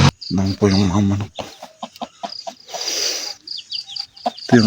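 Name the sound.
chickens clucking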